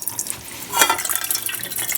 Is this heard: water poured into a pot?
yes